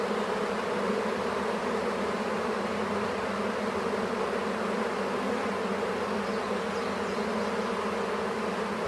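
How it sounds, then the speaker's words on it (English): Honeybees fanning their wings at the hive entrance, a steady, even buzzing drone close up with no pauses. "See how they're fanning their wings? That they're fanning. That means the queen's in there."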